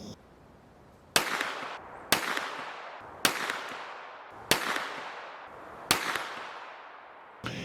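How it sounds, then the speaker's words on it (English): Five sharp gunshots from a Staccato C2 compact 9mm 2011 pistol firing 124 grain Gold Dot rounds, spaced about a second apart, each a loud crack with a quick ringing decay. "shooting 124 grain gold dot."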